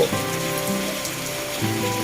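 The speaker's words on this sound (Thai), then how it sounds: "ฝนตกอย่างหนักเลยครับตอนนี้" Heavy rain pours steadily at a roadside gas station, a continuous close hiss of drops on surfaces, with a low engine-like hum running underneath.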